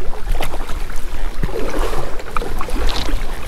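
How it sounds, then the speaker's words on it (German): Gusty wind buffets the microphone on a lake near the shore during a paddling trip, with low rumbling bursts and faint water and paddle sounds beneath. "auch in Ufernähe ist es windig"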